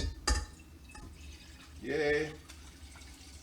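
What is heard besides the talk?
filling a pot with filtered water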